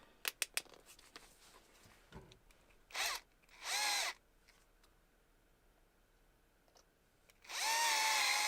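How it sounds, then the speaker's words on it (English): A power drill with a chuck that is not gripping whirs in short bursts, two brief spins then a longer one, with a few sharp taps and clicks between them, close by. "That drill is not gripping."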